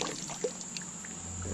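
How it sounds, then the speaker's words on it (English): Water dumped off a pan of dirt and sand at a campsite, a soft pouring trickle with small splashy drips, close and quiet, lasting just over a second. "And let's dump off the water."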